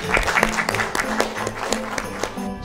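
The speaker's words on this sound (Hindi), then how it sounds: "जी तालियां इनके लिए।" Audience clapping at a Christmas program, heard as a burst of sharp, fairly close claps over tonal background sound, with some voice-like sound mixed in.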